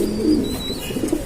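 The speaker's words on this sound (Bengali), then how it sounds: "অনেক চটপটা কবুতর" Racer pigeons kept for sale give low, throaty coos at close range in a short run of rolling calls, with a thin higher chirp behind.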